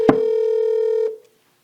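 A steady telephone line tone sounds while a call is being placed, one sustained buzzy hum that follows a sharp click and then cuts off, heard alone and close.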